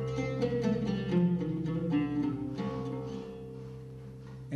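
A trio plays a bright melodic line built on a scale used for praise songs to God, with steady sustained tones and a low drone underneath, fairly close and continuous, with no voices.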